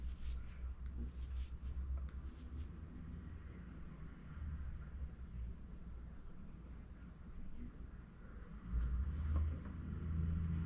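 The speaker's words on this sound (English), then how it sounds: "I hear the salt trucks outside now. They're salting." Salt trucks rumble past on a winter road outside, a low continuous drone heard from indoors that swells slightly near the end.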